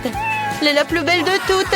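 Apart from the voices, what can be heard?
cat meowing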